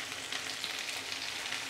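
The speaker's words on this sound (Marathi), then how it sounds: "आता त्याचसोबत याच्यात आपण कांदा टाकतोय आणि या कांद्या पाठोपाठ आपण कांद्याची पात सुद्धा याच्यात टाकतोय।" Chopped onion and spring onion greens sizzle in hot oil with mustard seeds for a spring onion pitla, a steady close crackling fry with no pauses.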